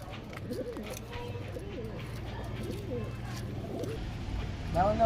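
Repeated soft Giribaz pigeon coos, low and throaty, rising and falling over a steady low hum, fairly close, with a brief louder sound at the end.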